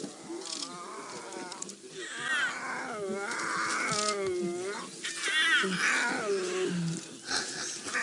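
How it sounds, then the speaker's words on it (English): Several lions of a pride roar and grunt in overlapping bouts over a buffalo kill, close and loud, with a person speaking softly between the calls. "See, they're all roaring now."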